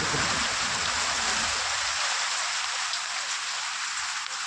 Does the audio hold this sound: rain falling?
yes